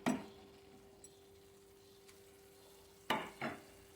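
Curry being stirred in a pot and left to simmer: a spoon scrapes at the start, a quiet steady hum follows, then two more scraping clanks near the end, all close and fairly faint.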